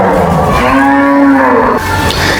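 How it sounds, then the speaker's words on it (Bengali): Cows low in the ISKCON cowshed at Mayapur, one long, loud, close moo rising and falling over about a second and a half, with a faint barn background and no talking. "এই হচ্ছে সেই মায়াপুর ইসকনের গরুগুলো গোশালায় রাখা রয়েছে"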